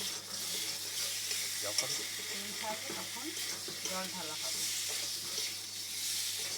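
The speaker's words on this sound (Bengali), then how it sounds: "এবারে পুরোভাবে এটাকে কষা হচ্ছে, সুন্দরভাবে একটা গন্ধ যতক্ষণ না আসছে তখন কষবে" Restaurant-style spice masala is sautéed in a pan until fragrant, its oil beginning to separate. Steady sizzling and frying hiss runs throughout, with the scrape of stirring and a brief spoken word.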